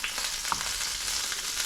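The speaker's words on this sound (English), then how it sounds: "I'm frying the courgettes" Sliced courgettes fry in a pan with a steady close sizzle and crackle, small pops and stirring scrapes over a short stretch, with no one talking.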